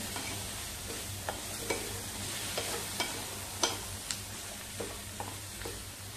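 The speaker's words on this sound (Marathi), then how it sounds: "मीठ घालून चांगला भोपळा आता परतवून घेतलाय." Salted pumpkin being stir-fried in a pan, a constant soft sizzle overlaid with scattered sharp clicks of a spatula scraping and tapping the pan, close and alone.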